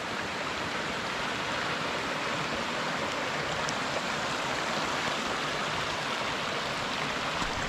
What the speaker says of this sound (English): the waterfall there. Well, it's a small one, but it's cascading.